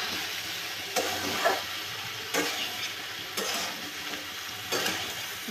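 Taro stolons (kochur loti) are stirred and lightly fried in a pan, giving a soft, steady sizzle broken by four scraping stirs at regular intervals, close and fairly quiet.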